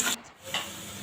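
Garlic and onion fry in hot oil with cumin for a dal tempering, making a brief close sizzle broken by a quick stirring scrape.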